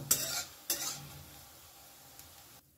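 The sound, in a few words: lentil fritters (bora) frying in oil in a pan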